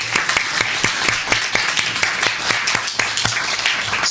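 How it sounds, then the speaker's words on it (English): Audience applause at a public debate on whether God exists, with steady, sharp claps from a modest crowd, some individual hand claps standing out, continuing for the full four seconds. "A round of applause for her."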